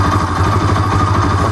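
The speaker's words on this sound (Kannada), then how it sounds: "ಗಾಡಿ ಆನ್ ಮಾಡಿಕೊಂಡು ಫಸ್ಟ್ ಗೇರ್ ಹಾಕೊಂಡ್ಬಿಟ್ಟು" A motorcycle engine idles in first gear with its chain turning during chain cleaning. The running is close and loud, with a steady, rhythmic pulsing clatter and no voices.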